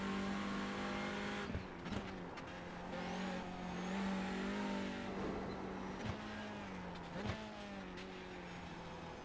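A touring car engine in the racing game iRacing drones steadily, holding a buzzing tone with occasional shifts and brief clunks, like gear changes during a lap.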